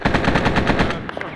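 Rapid machine-gun fire in the military shooter Arma 3, a loud, close burst of evenly spaced shots that breaks off into a few scattered cracks.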